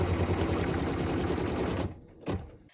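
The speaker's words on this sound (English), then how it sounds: "What we're stitching now is the tack down line for piece number 14, the last piece of fabric in our block." A sewing machine stitches a tack-down line on a quilt block's fabric piece, running in a fast, steady, close hum that stops abruptly, followed by one brief short burst.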